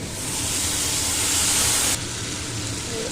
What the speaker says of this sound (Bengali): এবারে আমি সর্ষেটা দিয়ে দেবো